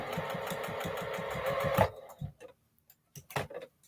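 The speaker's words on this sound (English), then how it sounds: "I'm top stitching this seam line with the right size on the outside now" A sewing machine topstitches a seam in a fast, even run of needle strokes for about two seconds, then stops, followed by a few soft clicks and handling knocks.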